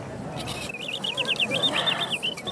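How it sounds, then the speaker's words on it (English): Tinny mechanical singing birds in an antique music box warble and trill in quick high chirps, close and fairly faint, over a soft hiss. "tell me what it really feels like when you hear the birds singing"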